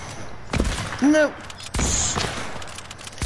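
Fortnite hunting rifle fire from a video game cracks loudly in a few sharp bursts, with a short synthetic tone between the shots, as a player briefly speaks.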